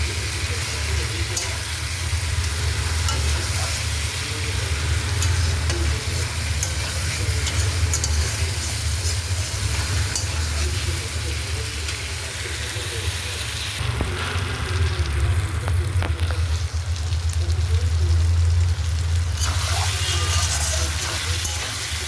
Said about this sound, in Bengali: মাংসটা সময় নিয়ে আমি ভালো করে কষিয়ে নিচ্ছি মশলার সঙ্গে।